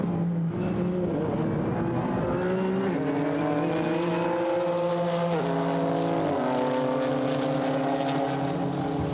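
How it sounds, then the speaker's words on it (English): GT4 race cars roar past at the Paul Ricard circuit in a European Series race, engines loud and continuous, climbing through the gears with pitch rising and dropping at each shift. "Up through the gears comes Alec Udell."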